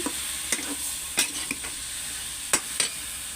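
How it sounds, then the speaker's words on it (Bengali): Taro root fries in a pan with a soft, steady sizzle, while a spatula scrapes and stirs it in several brief strokes at irregular intervals. "এটা দিয়ে একটু ভালো করে নেড়েচেড়ে দিচ্ছি।"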